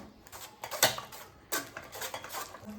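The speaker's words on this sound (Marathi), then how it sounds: "एक दुसरा बाउल घेऊया आणि त्यावर एक चाळण ठेवून हा जो ज्यूस आहे तो आपण चाळणीच्या सायाने गाळून घेऊया" Wood apple juice being strained through a metal sieve into a bowl, with clinks and scrapes of a spoon on steel, irregular taps and rattles, close and moderately loud.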